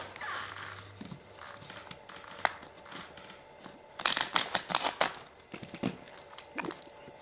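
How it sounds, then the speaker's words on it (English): Tarot cards riffle and snap in quick crisp bursts, close up, with softer handling rustles before and after the main shuffle. "Try to shuffle a little on the camera here for you."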